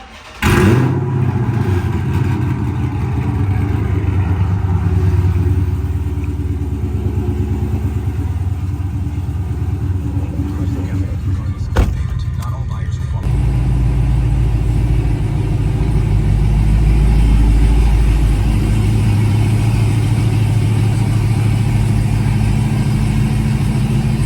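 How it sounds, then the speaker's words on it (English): A 2006-2010 Dodge Charger engine idles and rumbles deeply while the car is backed into a garage, a steady low throb close by that shifts and grows fuller partway through as the car moves. "so I'm gonna back the car into the garage"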